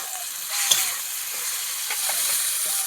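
Spice paste is sautéed in oil for a potol and prawn dish, a loud, steady hissing sizzle with a few brief stirring scrapes and no speech.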